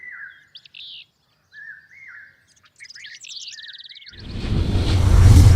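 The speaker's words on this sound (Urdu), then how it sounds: "آفتاب کو ڈھکتے پرندے، ماشاء اللہ، بے مثال تھا" A flock of birds in a story sound effect chirps and tweets in short, bright, separate calls, then a rising whoosh swells loudly to close.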